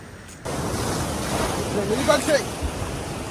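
Surf rolls onto a Vizag beach as a steady wash of wave and wind noise, with brief voices briefly heard over it.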